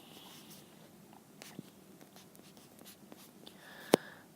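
Pen scratching faintly on paper while a fraction subtraction problem is worked vertically, with soft irregular strokes, light taps and one sharp click near the end, quiet and close.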